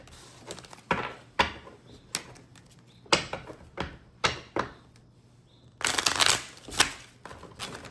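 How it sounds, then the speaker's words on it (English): Oracle cards being shuffled in a series of short riffling bursts, close by, with quiet gaps between them and a longer flurry near the end. "It's not a good shuffle."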